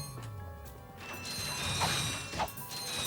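Bolts being collected in the Ratchet & Clank video game, a quick cascade of metallic clinks and mechanical ratcheting over a background game soundscape, with a couple of brighter pings, short and fairly loud, no talk.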